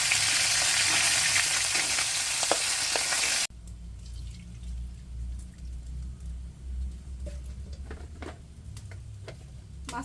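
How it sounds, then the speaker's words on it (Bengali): Mixed fresh fish fry in a pan after being flipped, starting as a loud, dense, hissing sizzle that suddenly drops to a quieter crackle with scattered pops and occasional clicks. "এখন ওই মাছগুলো উল্টাইলাম, সবগুলো উল্টাই আলো করে একটা ভাজলাম"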